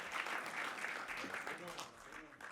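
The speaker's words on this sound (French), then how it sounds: "On les applaudit l'un et l'autre." Audience applause at the IRIS 2023 award ceremony, a steady wash of clapping from a crowd with voices mixed in underneath.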